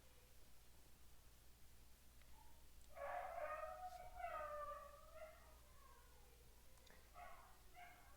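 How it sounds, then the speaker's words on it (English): A pet dog howls and whines in the background of a quiet room, a drawn-out wavering cry lasting a couple of seconds, followed by softer yelps, fairly faint and at a distance. "My dog's going off in the background."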